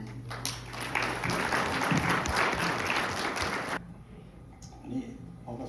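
Audience at an exhibition opening in a rally park applauds to welcome a speaker on stage, a loud burst of clapping that swells and then cuts off abruptly, followed by quieter room noise and a few faint sounds.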